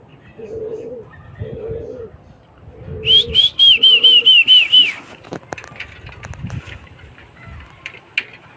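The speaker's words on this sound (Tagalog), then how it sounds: "Ayan o mga kalapatid, sa taas ng mga warriors natin." Pigeons fly overhead, giving a few soft, low coos followed by a quick burst of sharp, high chirps, with faint background noise and no talking.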